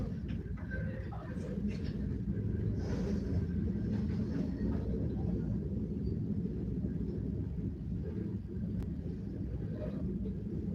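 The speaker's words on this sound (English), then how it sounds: "Let's wait till the train goes." A train rumbles past outside a city council meeting room, a steady low droning roar lasting throughout, fairly distant and muffled indoors, with faint voices in the room.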